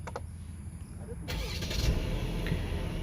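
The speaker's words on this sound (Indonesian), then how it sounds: "kita injek rem dan tekan start stop engine button yang di sebelah kanan sini untuk nyalakan mesinnya" Mercedes-Benz C200 AMG Line Final Edition 2021 (W205) started by push button, an interior click followed by the engine catching and settling into a steady, muffled idle heard from inside the cabin.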